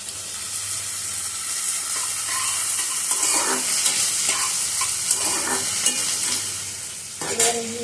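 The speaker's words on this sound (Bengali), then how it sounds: "বিনস ভাজা হচ্ছে, দিতে হবে না, ঠিক আছে। এবার আমি দিয়ে দিলাম ক্যাপসিকাম।" Green beans and capsicum sizzle steadily in a hot pan, with repeated scraping stir strokes and a few light utensil knocks close to the microphone.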